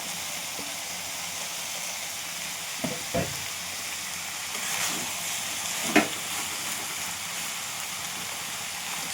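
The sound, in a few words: ridge gourd and fried potatoes stirred and frying in pan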